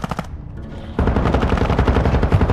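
Rapid bursts of automatic gunfire in a multiplayer shooter video game, loud and close, with a short staccato volley, a brief lull, then a sustained continuous stream of shots.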